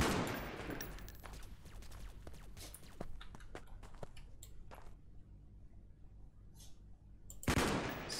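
Gunfire in the sci-fi shooter Freeman: Star Edge comes as rapid rifle shots and short bursts, dense at first, then sparser single cracks, ending in a loud burst.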